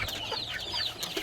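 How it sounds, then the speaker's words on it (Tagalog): Backyard pet chickens clucking, a few short close-up clucks and squawks from hens in a pen, fairly clear against light background noise. "At ito naman po yung ating mga alagang manok."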